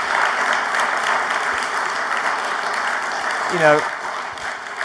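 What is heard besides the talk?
audience applause for panel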